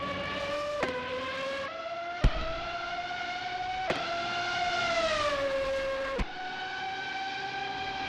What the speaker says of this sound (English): We have our first car out on track.